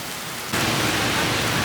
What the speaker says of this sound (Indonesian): ini baru selesai nonton dan langsung disambut hujan